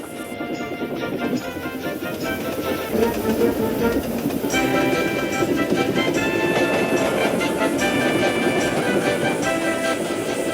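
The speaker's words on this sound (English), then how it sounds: "Gordon puffed and chuffed as fast as he could along the main line." A steam locomotive runs along a main line with a rolling rhythmic clatter of wheels and a steady chug. The sound stays fairly loud and continuous, with a brighter metallic ringing that enters partway through.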